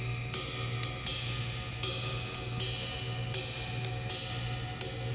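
Crisp cymbal strikes in a swung jazz ride pattern, about nine evenly recurring hits with light accents between, played alone at moderate volume over a steady low hum.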